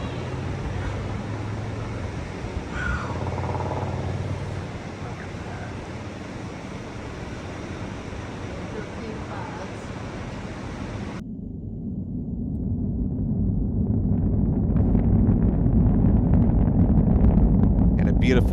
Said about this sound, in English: Liftoff of the Falcon 9 rocket on the Starlink 8-5 mission, and the Falcon 9 has cleared the tower.